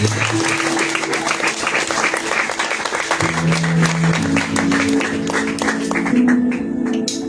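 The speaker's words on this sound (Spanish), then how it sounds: "¿Cuántos pueden aplaudir al Cristo de la gloria?" A church congregation claps and applauds loudly and continuously, with sustained musical tones from instruments playing underneath the dense clapping throughout.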